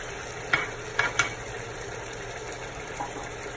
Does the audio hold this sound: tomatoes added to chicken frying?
yes